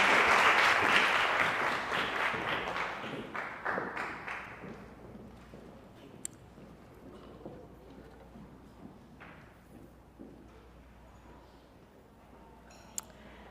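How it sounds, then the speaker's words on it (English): An audience at a live startup pitch event claps to welcome an entrepreneur, loud dense applause at first that thins and fades over several seconds into scattered claps and a few sharp isolated taps. "let's give her a round of applause"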